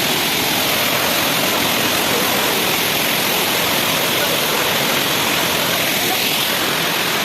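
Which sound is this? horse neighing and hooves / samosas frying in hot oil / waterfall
waterfall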